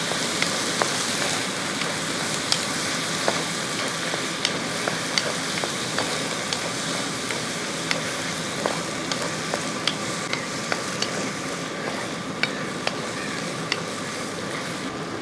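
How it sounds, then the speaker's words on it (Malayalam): Chopped tomatoes sizzling in a pan for Kerala-style tomato soup, a steady close frying hiss with scattered light ticks and clicks as they are stirred, no talking. "ആ തക്കാളി അങ്ങോട്ട് ഇട്ട് കൊടുക്കാം. തക്കാളി ഇട്ടൊന്ന് ഇളക്കി കൊടുക്കുക."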